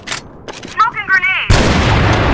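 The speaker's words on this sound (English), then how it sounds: "Smoking grenade." A smoke grenade goes off in the CrossFire shooter game, a sudden broad hiss bursting in after a short in-game voice callout and holding steady and loud to the end.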